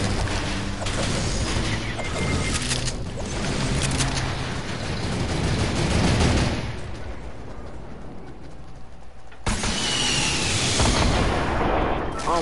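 Rapid submachine gun fire in a video game, a dense, loud, continuous clatter of shots that drops off briefly before resuming near the end.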